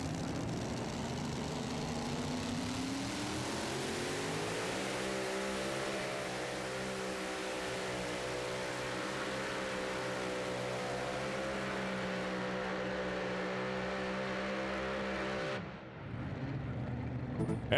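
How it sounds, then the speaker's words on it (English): Mini rod pulling tractor at a Pro Pulling League event in Farley, Iowa, roars as it revs up, then holds a loud, sustained engine howl through a long pull before cutting off abruptly near the end. "Up next will be Art Mendez. The name of the tractor, Scratchin' for Traction"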